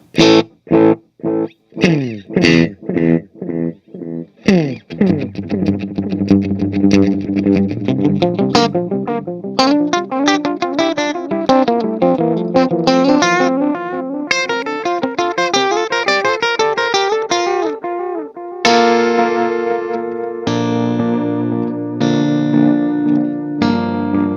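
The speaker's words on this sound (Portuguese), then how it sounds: "Um pouco mais de repetição e um delay ainda mais longo." An electric guitar runs through an Analogman ARDX20 analog delay pedal set for more repeats and a longer delay time, picked notes and chords trailing into dense, overlapping echoes that smear into a continuous wash.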